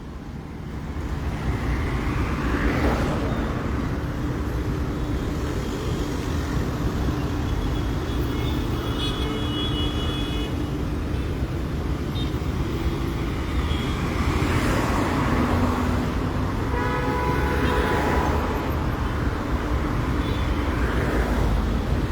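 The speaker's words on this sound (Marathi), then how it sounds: "अटल सेतू ब्रिज सद्या फूल जाल्लो मिन्स फूल ट्रॅफिक जॅम जाल्लो आसा." Slow, jammed traffic on the Atal Setu bridge, a dense, continuous roar of engines and tyres with occasional louder passing vehicles, steady throughout with no voices.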